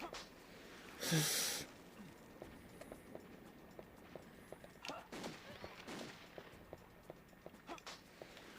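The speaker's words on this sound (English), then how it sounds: "Henry's got a gun?" Henry fires his gun in Castlevania: Legacy of Darkness on the N64: one loud, sharp blast is followed by a string of short, evenly spaced ticks and softer bursts over low game ambience.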